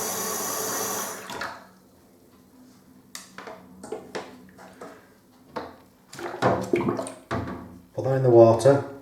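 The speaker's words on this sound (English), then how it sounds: "Using the same water, just topping it up." Water gushes from a tap into a bucket for a second or so, then stops, followed by scattered clunks and handling noises with some sloshing.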